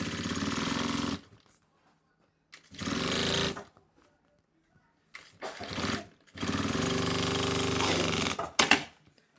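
A sewing machine stitches plastic and a zipper onto a notebook cover in short, rapid runs of mechanical whirring, with several separate bursts broken by quiet pauses, close and clear.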